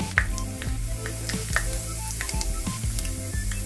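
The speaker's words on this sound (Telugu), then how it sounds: "ఒక హాఫ్ స్పూన్ అంతా ఆవాలు వేసుకుందాం. ఒక పావు స్పూను జీలకర్ర అండి." Mustard seeds, fenugreek and cumin sizzle and pop in hot oil, a steady crackling fry with scattered sharp pops, heard close with no talking but with tonal background sound underneath.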